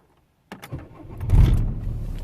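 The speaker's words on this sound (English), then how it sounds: "It's gonna start the engine." A Renault Laguna engine starts from silence with a sharp crank, then catches and swells into a steady idle, loud and close.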